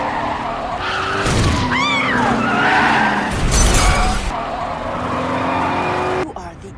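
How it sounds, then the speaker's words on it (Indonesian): A car skids with loud, squealing tires and then crashes into a parked car, ending in a sharp impact and shattering. A voice is briefly heard during the commotion. "menabrakkan pengemudi tersebut ke sebuah mobil yang terparkir"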